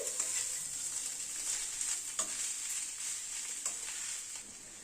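Potato and pumpkin sizzle steadily in a frying pan while a spatula stirs through them, with a few soft scraping strokes over the continuous quiet frying hiss and no talking.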